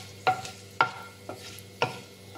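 Mustard seeds, chana dal, urad dal and cumin tempering in hot oil, with four sharp crackling bursts and stirring scrapes spaced about half a second apart over a low steady sizzle, close and fairly quiet.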